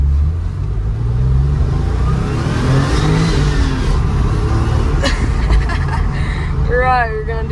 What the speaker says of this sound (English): That's just a little acceleration to get us entertained real quick.